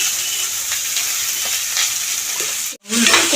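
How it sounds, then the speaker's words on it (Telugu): Onions fry in oil left from a tempering of spices, with a loud, continuous close sizzle and a few stirring scrapes, and a brief drop out near the end. "ఈసారి పోపులు తీసుకున్న నూనెలోనే ఈ ఉల్లిపాయలు వేసేస్తున్నారు."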